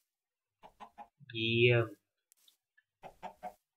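Chickens in Minecraft cluck in short, close bursts, with one longer, louder squawking call in the middle and a brief spoken word from a voice.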